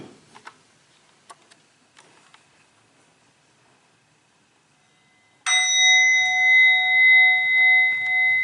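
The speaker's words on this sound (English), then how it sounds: "while I invite the bell" A meditation bell is struck once after some quiet ticking and small taps, ringing out loud and clear with a long, pure, slowly pulsing tone that sustains to the end.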